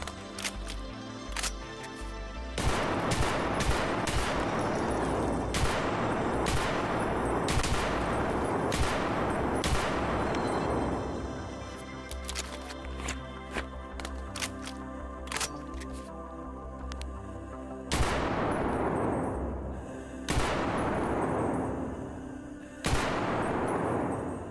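Gunfire from the Escape From Tarkov game: a long magazine dumped in sharp repeated shots, then scattered single and burst shots with ringing decay, loud and close with no talking.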